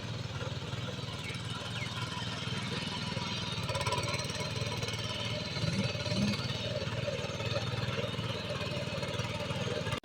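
A tractor engine runs steadily on farmland, a continuous close mid-pitched rumble with a rapid chugging pulse throughout, with faint voices in the background.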